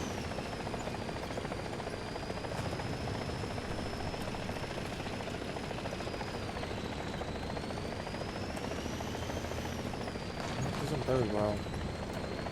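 A helicopter in the War Thunder video game, a continuous droning rotor hum with a slowly shifting whine, steady and moderately distant, with someone speaking briefly over it.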